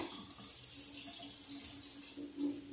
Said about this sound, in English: put this in the strainer. And you're gonna rinse them off again